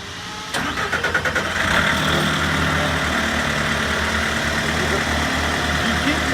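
A US Jetting JETVAC truck unit's engine cranks and starts, then settles into a steady, loud idle with a deep continuous rumble close by.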